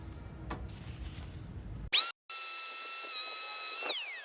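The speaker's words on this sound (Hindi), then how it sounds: "स्कोर बफ कर लेते हैं अपने एंगल ग्राइंडर से।" An angle grinder buffs a metal engine part with chrome polish, starting with a brief loud burst, then a steady high-pitched whine that holds and winds down at the end, up close and without talk.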